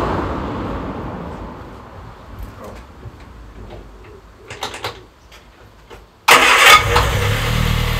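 An old barn-find car engine cranks and catches near the end, jumping to a loud, steady idle after quieter clicks and shuffling.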